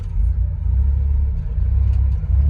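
Loud, steady low engine rumble of a Cutlass being driven, close up and continuous, with no talk over it.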